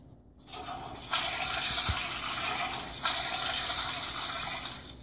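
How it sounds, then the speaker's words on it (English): A toilet flushes in a room escape video game, a loud rushing gush of water that surges, swells again partway through and keeps pouring steadily as the tank refills, with no talk over it. "We can now flush the toilet."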